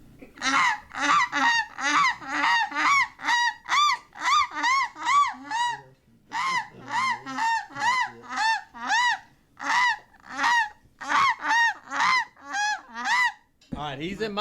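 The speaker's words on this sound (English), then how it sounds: "Oh, they got some snow geese coming in." A flock of snow geese arriving at a Louisiana hunting camp honks loudly and almost without pause, dense overlapping calls in quick succession with one brief lull midway.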